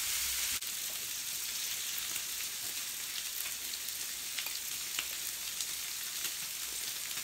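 Pork belly, mushrooms and kimchi sizzle on a grill with a steady, close hiss of frying fat and occasional pops and spits.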